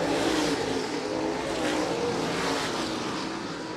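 Late model race cars roar past at Thunderbird Raceway, a loud, broad engine howl off turn four onto the front straight that rises and swells as the pack passes, then fades slightly at the end.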